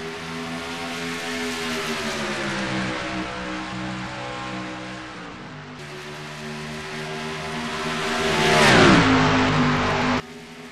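Race cars in a video game roar off the start at Darlington Raceway, engines droning loud and layered, pitch climbing and shifting through gears, a big swell near the end before cutting off abruptly.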